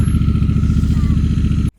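A motorcycle engine runs steadily and loud on a road trip in Norway, a close, continuous throaty rumble with rhythmic pulsing that cuts off abruptly near the end.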